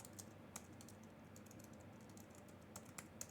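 Fingers type on a small, cheap computer keyboard, a quick irregular run of light key clicks, close and quiet, with no talk over it.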